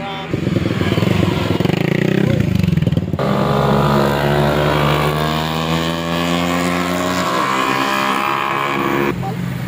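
Several motorcycles, including a Ninja 400, roar past close by in a loud, sustained, layered engine drone that shifts pitch as they go by, with voices talking underneath.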